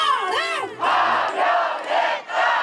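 A large crowd of citizens erupts in loud cheering and shouting the moment the removal of President Yoon Suk-yeol is announced, with swelling waves of massed voices and a wavering cry rising near the start.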